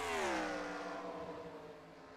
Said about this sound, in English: Now, I am hearing some idling engines up ahead